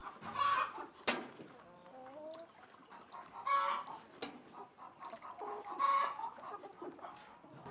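Chickens in a chicken house cluck and call repeatedly at moderate distance, with several bursts of rising, drawn-out vocalizations and a couple of sharp knocks between them.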